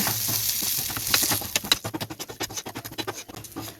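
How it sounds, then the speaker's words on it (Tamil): Onions with cumin and garam masala are sautéed in a hot pan, a loud close sizzle that turns into quick, rhythmic scraping and tossing strokes during the second half. "இப்போ இதை லேசாக வதக்கிப்போம்"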